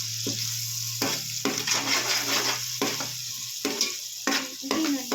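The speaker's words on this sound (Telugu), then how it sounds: "వేసుకొని నూనెల్నే ఫ్రై చేసుకోవాలి ఒక రెండు నిమిషాలు" Chili powder fries in oil for a village-style fish curry, a loud steady sizzle broken by repeated scraping stirs of a spoon against the pot, with no talk.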